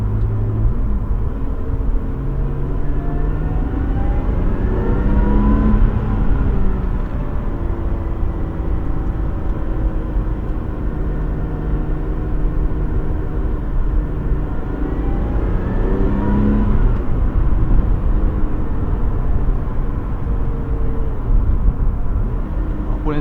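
A Lotus Exige 410 engine revs steadily below 4500 rpm with its exhaust valves closed, a continuous loud rumbling drone with rising and falling pitch sweeps, heard from inside the car.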